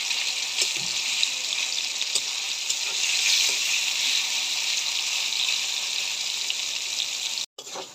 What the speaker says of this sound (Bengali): আমি সুন্দর করে নেড়ে চেড়ে মাংসটা একদম ভাজা ভাজা করে নেব, লাল লাল করে।